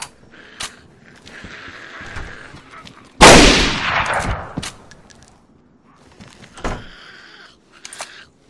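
A loud Blitz gunshot from the video game DayZ, with a booming report that rings and fades, and other sharp shots and game noises around it.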